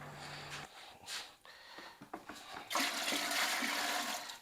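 Water poured into a sterilizing machine, heard as short splashes followed by a steady, close rushing pour that runs for the last couple of seconds, with no talking.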